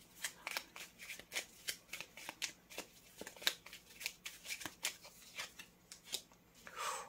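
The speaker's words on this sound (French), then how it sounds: "Je vais mettre une deuxième carte." Tarot cards are shuffled and laid out by hand in a quiet room, giving a long run of crisp, rhythmic card flicks and snaps, close and fairly soft.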